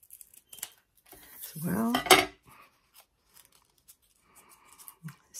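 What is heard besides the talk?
scissors cutting paper for paper flowers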